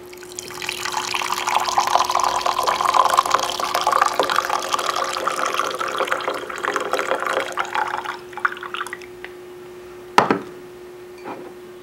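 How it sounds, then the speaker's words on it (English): Coffee pours steadily into a mug up close, a continuous liquid stream that fades out, followed by a sharp clink and a faint tap near the end. "we then pour the coffee into a mug"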